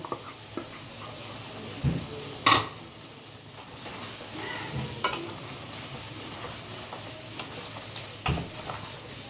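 Tender jackfruit and prawns are stirred in a pan over a low flame: soft scraping and occasional sharp clinks of a spoon against metal come over a quiet, continuous sizzle.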